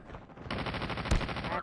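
Rapid automatic gunfire in Call of Duty Mobile, a fast regular burst of shots that starts partway in and runs loud to the end, with one sharper impact in the middle of the burst.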